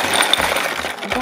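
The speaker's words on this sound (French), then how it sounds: "Donc on va mettre les cailloux" Pebbles and yard gravel tumble into a plain cardboard box. The result is a close, loud burst of rattling clatter and scattered clinks lasting about a second, with no voices.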